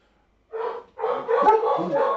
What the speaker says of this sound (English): outside of the tent, you hear the sound of wolves barking